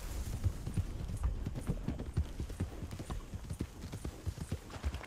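Horse hooves clip-clop steadily in Red Dead Redemption 2, a continuous rhythmic trot of close, distinct hoof strikes over a faint ambient background.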